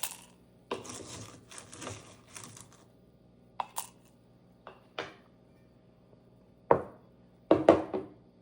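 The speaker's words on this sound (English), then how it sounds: "So just spoon some ice." Ice spooned into a cup for a fireweed-infused drink: a run of crisp clinks and clatters, rustly at first, then a few separate sharp knocks and rattles up close.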